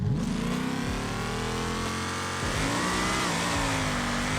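A drag car in a racing game launches off the trans brake, its engine roaring loud and close as the revs climb in rising sweeps, dip briefly at a gear change, then pull hard again.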